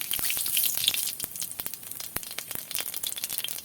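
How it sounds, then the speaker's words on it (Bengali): Cumin seeds sputter in hot mustard oil with a bright crackling sizzle, dense sharp pops scattered over a soft hiss, close and moderately loud, with no voices. "তেলটা গরম হয়ে গেছে দিয়ে দিচ্ছি দুটো জিরে"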